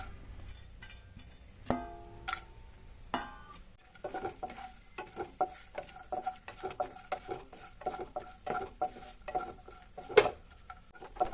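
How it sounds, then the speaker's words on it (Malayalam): Cashews and cut almonds are fried and stirred in hot ghee in a pan, with a steady patter of clinks and scrapes from a spoon on metal after a few louder knocks at the start, and no talking. "ഇനി ബദാം കട്ട് ചെയ്തതും ചേർത്ത് കൊടുത്തിട്ട് നന്നായി ഒന്ന് ഫ്രൈ ചെയ്തെടുക്കാം"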